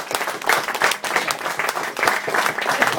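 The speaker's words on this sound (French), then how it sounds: "on peut l'applaudir, il nous a fait quelque chose d'exceptionnel" An audience breaks into a loud burst of applause, many hands clapping densely and close, sustained for a few seconds.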